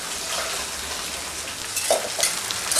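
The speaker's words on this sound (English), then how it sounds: "Mixing the bechamel for a bit," Bechamel sauce of flour and milk is being mixed in a pan, giving a continuous close wet hiss and soft scraping stir with a few louder clinks near the end.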